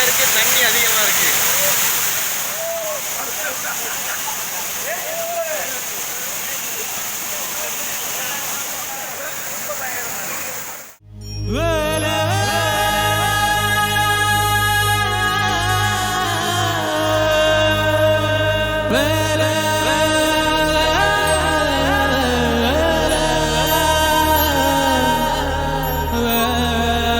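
A waterfall at Tenmala, Kerala, roars as a loud, continuous broadband rush of falling water, then cuts off abruptly and gives way to music with voices.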